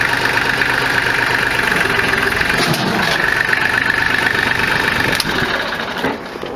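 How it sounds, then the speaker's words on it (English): Mahindra Max compact tractor engine idling steadily while the loader lifts the machine's own weight, a loud, close, continuous mechanical drone that eases slightly near the end. "She can lift her own weight at idle."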